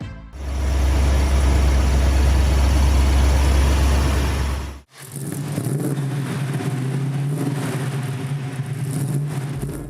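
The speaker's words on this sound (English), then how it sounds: "the Chevrolet-sourced 327 cubic inch V8 pumping out 250 horsepower" A 1968 Holden Monaro GTS with a Chevrolet-sourced 327 cubic inch V8 making 250 horsepower runs loud and close, a deep steady roar that drops out abruptly midway, then resumes as a lower, rumbling idle.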